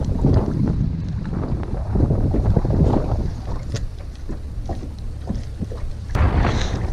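Wind blowing across open water during a fishing outing, a loud, steady buffeting rush with low rumble and scattered gusts close to the microphone, and no talking.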